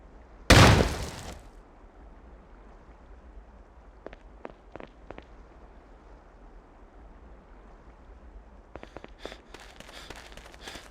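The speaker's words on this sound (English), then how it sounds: "Press the fire key again to detonate the claymore." A claymore mine goes off in the Ghost Recon video game training course, one sharp loud blast at the start that quickly fades, followed by faint scattered clicks and rustles over a quiet background.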